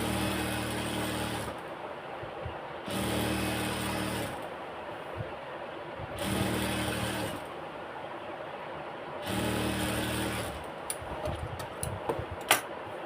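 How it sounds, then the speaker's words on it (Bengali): A sewing machine stitches a folded hem on pajamas in four steady bursts of running, each with a low rhythmic hum, separated by short pauses and ending in light clicks and handling. "এই যে হ্যামটা মুড়িয়ে সেলাই করে নিব"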